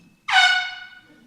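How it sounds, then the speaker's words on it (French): A single loud air horn blast marking the end of the time limit at a national science-talk competition final, a sharp onset then a steady brassy tone fading away after about half a second. "Après 3 minutes et 1 seconde, la corne de brume retentit."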